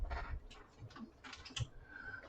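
Keys clatter on a computer keyboard at a vintage VT132 terminal build during setup, with a few quick bursts of light clicks and a faint tone near the end, no talk.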